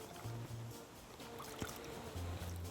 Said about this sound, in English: And now you want to rinse that in your warm water until the water runs pretty much clear